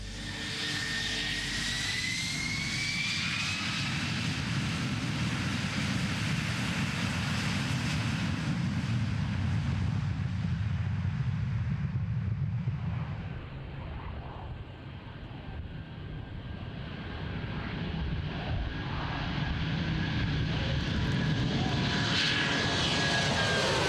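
The Nimrod MRA4 maritime patrol aircraft roars loudly on its first flight takeoff at Woodford, a powerful sustained jet engine thunder that dips briefly midway, then swells again as the aircraft climbs away.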